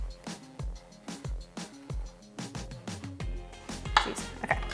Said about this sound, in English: you cut the same line again